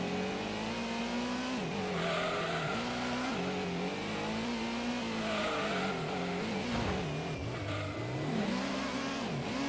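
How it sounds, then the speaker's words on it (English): Car engine revving and accelerating, with some tire squeal, as the car drifts off the road in the Gran Turismo racing video game. The engine note rises and falls steadily and stays loud throughout. "Why are you drifting off the road?"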